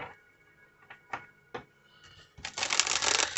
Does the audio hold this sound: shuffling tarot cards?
yes